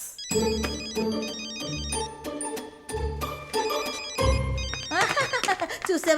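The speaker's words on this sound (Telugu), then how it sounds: "రింగింగ్స్." A mobile phone ringtone plays in a romantic comedy film scene, a melodic tone pattern repeating in several bursts and ending in a faster warbling run, with voices over part of it.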